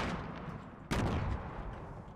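Gunfire in the Fortnite battle royale video game: a single sharp shot cracks out mid-clip over a dense rumbling background of game noise.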